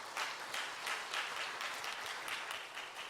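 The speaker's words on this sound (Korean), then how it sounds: "하나님께 감사와 영광의 박수 먼저 한번 드렸으면 좋겠습니다" A church congregation at a prayer meeting claps in applause, a steady wash of many hands heard from a moderate distance.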